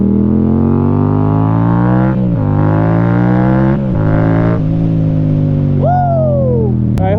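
A motorcycle engine runs steadily at a loud, close idle with a strong low rumble, then revs up in a few short bursts before a rising whine near the end.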